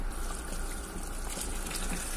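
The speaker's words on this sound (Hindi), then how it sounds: "ये मैं अभी इसमें मज़ीद पानी डाल रही हूँ" Water pours steadily into a large pot of beef nihari holding about 3 kg of meat, a continuous gushing, splashing stream lasting the whole moment with no talk.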